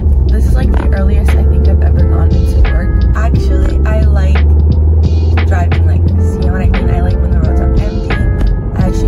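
Car driving at night, heard from inside: a deep, constant engine and road hum fills the cabin while someone talks over it throughout.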